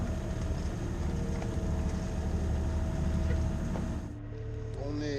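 A sailboat's inboard engine idles at about 1400 rpm in a flat calm, a steady low droning hum that runs at moderate level before dropping off near the end, with no talk.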